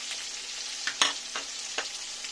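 Onion and green chilies frying with shrimp in oil make a soft, steady sizzle. A few quick stirring scrapes rise out of it, the loudest near the middle.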